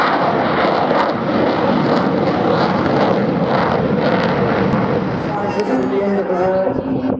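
Eurofighter Typhoon jet aircraft flying at the Wales National Airshow 2017, a loud continuous roar that fills the clip with steady broadband engine noise and a rising tonal whine near the end.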